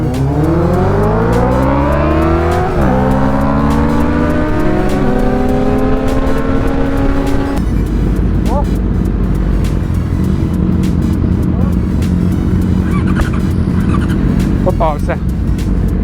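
A BMW car accelerates hard on a city street, its engine note climbing steeply through several gear changes before settling into a loud, steady roar with traffic noise around it.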